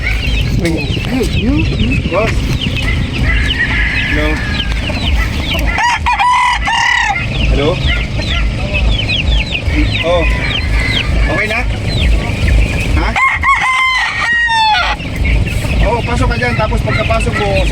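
Roosters crow repeatedly amid steady clucking from many chickens, with people talking throughout over a busy background.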